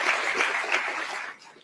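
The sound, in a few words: audience applause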